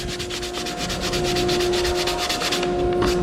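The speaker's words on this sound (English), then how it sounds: "lightly, carefully keeping even pressure, sand this down, just fingers on there" A wooden picture frame is sanded by hand with steady, light back-and-forth strokes, the close scratchy rubbing continuous and alone throughout.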